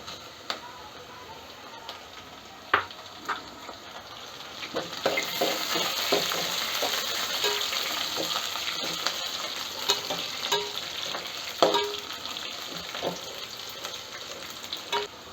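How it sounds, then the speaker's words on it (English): Onion and red chilies fry in a pan for a simple dal curry, giving a continuous close sizzle that grows louder partway through, broken by scattered clicks and taps of a spoon stirring. "Once the onion turns from glossy to brown, we add the red chilies that we have kept aside."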